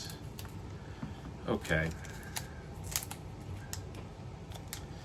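Scissors snip through the wrapper of a 2025 trading card pack in a few sharp, clustered cuts, close up, with a brief spoken word.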